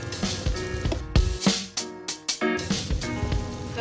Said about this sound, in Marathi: हा मसाला आपल्याला मंद गॅसवरती छान असा परतून घ्यायचा आहे